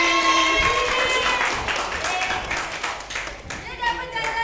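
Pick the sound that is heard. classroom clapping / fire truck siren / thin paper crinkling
classroom clapping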